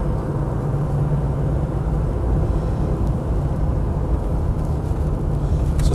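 A Land Rover 90 V8 County Station Wagon on standard tyres cruises along a road, its engine and drivetrain giving a steady, even low rumble with broad road and wind noise throughout.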